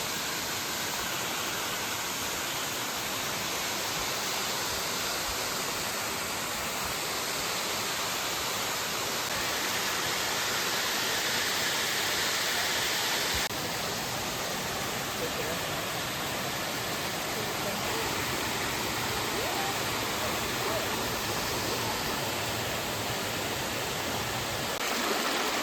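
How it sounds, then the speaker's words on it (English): Chapel Falls in Michigan's Upper Peninsula gives a steady, unbroken rush of falling water, a dense hiss that holds at an even level throughout with no voices over it. "We can hear like the falls, the Chapel Falls or whatever they call them. We hear the water rushing"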